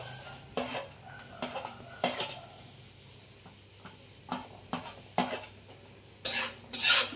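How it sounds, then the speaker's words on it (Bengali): A utensil stirs fried basmati rice with peas in a pan, scraping and knocking at an irregular pace against a low sizzle, close and alone. "আবারও আমি ভালো করে নাড়াচাড়া করে নেব।"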